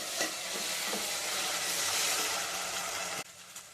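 Ginger garlic paste fries with onions in a pan for a mutton and ivy gourd curry, a loud continuous sizzle with faint stirring scrapes that drops off sharply near the end.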